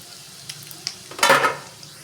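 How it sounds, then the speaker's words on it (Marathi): Leftover stuffing mixture for masala okra is stirred and sautéed in hot oil with asafoetida, giving a few faint clicks before a short, louder sizzling, scraping burst close by. "जे मग असं थोडं सारण उरलं होतं ना ते पहिल्यांदा मी तेलामध्ये परतून घेत आहे"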